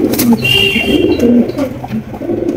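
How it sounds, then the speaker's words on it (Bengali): Low, throaty racing pigeon coos repeat close by, a soft rolling burble with a few faint chirps in the background. "এখানে রেসার কবুতর আছে"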